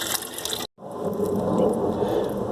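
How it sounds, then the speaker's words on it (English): Greywater drains out of a ladle in a greywater system, a steady rushing trickle of water heard up close that briefly cuts out and then resumes, running on without any talk. "The water can drain out from the ladle"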